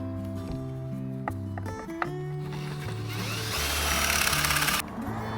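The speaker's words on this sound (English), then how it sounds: "That's how you drill a pocket." A power drill bores pocket holes for an RV kitchen cabinet, whirring in short bursts before a longer, louder run that cuts off sharply near the end.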